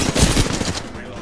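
Rapid automatic gunfire in a Call of Duty match, a short, loud burst of closely spaced shots over about a second, then trailing off.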